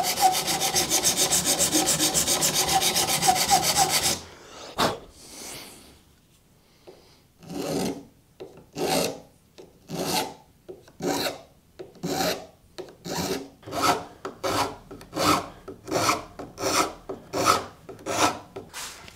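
A file rasps across pallet wood guitar frets to re-crown them, a run of steady, even back-and-forth strokes, each one clear and close, after an opening burst of louder continuous noise.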